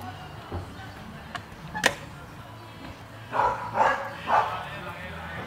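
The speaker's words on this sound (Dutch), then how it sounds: "Nu hebben we hier ook twee honden, die komen constant naar hier." Dogs at a campsite bark in a few short bursts, near and moderately loud, with sharper knocks earlier and people talking in the background.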